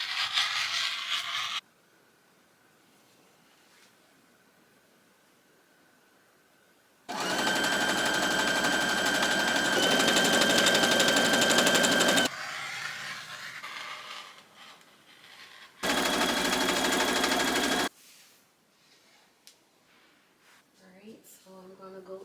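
A sewing machine stitches the bottom part of a dress in two loud, steady whirring runs, the first about five seconds and the second shorter, separated by quieter handling noise and gaps.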